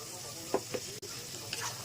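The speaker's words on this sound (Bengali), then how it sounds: "এর মধ্যে আমি ওই পালং আর ধনে পাতার পেস্টটা দিয়ে দেবো।" Spinach and coriander paste hits hot frying masala in a chicken curry pan. A few sharp bursts of sizzle and stirring come up close over a steady hiss, with no talk.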